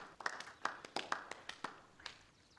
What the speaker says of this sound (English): So I thought we could begin with a round of applause